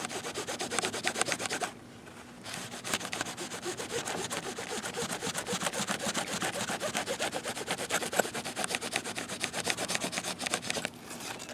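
Hand-sanding wood coated in Krylon Chalky Finish spray paint, a close, steady scratchy rubbing with quick back-and-forth strokes and two short pauses.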